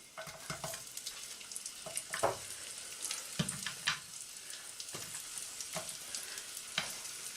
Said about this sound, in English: it's not quite hot, but it's, you can hear it sizzling